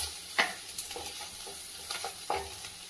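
Vegetables fry in a pan with a soft continuous sizzle, broken by a few light scrapes and taps of a stirring spoon, close by and fairly quiet.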